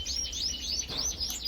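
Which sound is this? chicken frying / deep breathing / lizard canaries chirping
lizard canaries chirping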